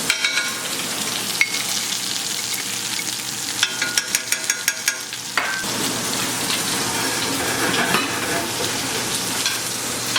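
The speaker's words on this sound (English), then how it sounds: "You want to melt that butter" A generous lump of butter melts in a hot frying pan, hissing and sizzling loudly and continuously, with a quick run of rhythmic scraping taps midway as the pan is worked, and no talking.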